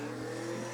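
Drag race cars launch at Seekonk Speedway during spectator drags, giving a brief, loud roar of engines with a steady droning pitch.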